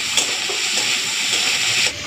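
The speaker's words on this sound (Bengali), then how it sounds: "এখন এই আলু আর চিংড়ি মাছের সাথে ঝোলটাকে কিছুক্ষণের জন্য ভেজে নেব।" Potatoes and prawns fry with broth in a pan, giving a loud, even sizzle and hiss that holds steady throughout with no one talking.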